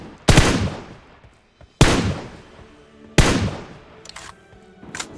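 Three loud, sharp gunshots ring out at even intervals, each with a long decaying tail, in Battlegrounds Mobile India game play, with faint, distant shots at the end.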